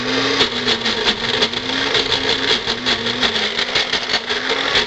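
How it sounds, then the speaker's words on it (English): A small blender whirs steadily with a continuous motor hum and rhythmic pulsing churn as ingredients are mixed, loud and close with no voices. "So we'll go ahead and blend this up."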